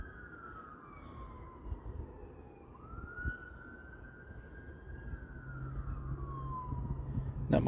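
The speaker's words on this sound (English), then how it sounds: "Man, a lot of sirens today." An emergency vehicle siren wails in long rising and falling sweeps at moderate distance, with steady low traffic rumble underneath and no talking.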